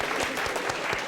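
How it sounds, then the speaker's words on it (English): A short burst of audience applause at a school gathering, steady and moderately loud with distinct individual claps. "do a round of applause everyone please"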